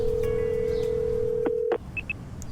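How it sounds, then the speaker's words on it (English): A phone keypad sounds a long steady dial tone, then a few quick touch-tone beeps as a number is entered, ending in two short high tones, close and clear. "I find it in my phone and give her a call"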